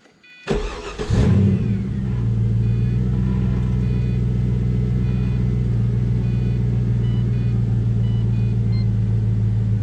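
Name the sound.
2004 Pontiac GTO engine starting and running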